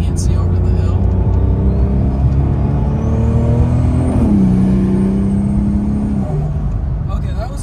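An 800 HP Porsche 911 Turbo, all-wheel drive, accelerating under boost from inside the car; a loud continuous engine drone rises steadily in pitch, then dips briefly with a gear change and holds.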